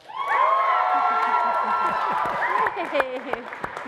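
Audience in a hall for a recovery center award event, cheering and whooping loudly with some clapping, a sustained crowd roar rising after a short build and carrying on throughout with voices mixed in.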